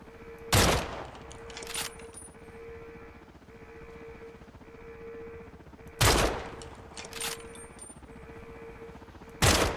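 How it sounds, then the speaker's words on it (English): Video game gunfire in short bursts, a loud shot repeated several times several seconds apart over a steady droning background tone. "I shoot a few times to see"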